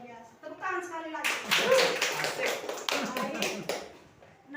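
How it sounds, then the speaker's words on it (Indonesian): Classroom of students clapping hands together, a burst of quick, fairly close claps lasting a few seconds after a teacher's voice, with some children's voices mixed in. "Tepuk tangan sekali lagi."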